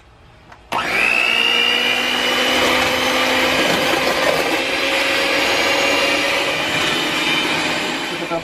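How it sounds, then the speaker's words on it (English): A kitchen blender switches on abruptly and runs with a loud, steady whirring roar, mixing crepe batter of flour, milk, eggs and vanilla extract, holding constant for several seconds with no voices over it. "Then, i-blender ko na siya."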